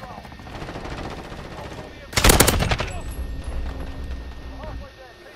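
AK-47 assault rifle fire in Call of Duty: Modern Warfare, a loud burst of rapid shots cutting through game ambience, followed by quieter distant gunfire while someone talks.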